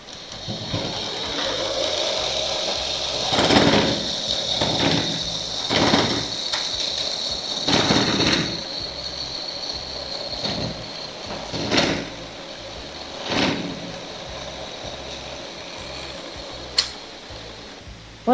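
A sewing machine stitches a petticoat in repeated short runs of whirring mechanical chatter, close and fairly loud, separated by quieter pauses with light handling clicks.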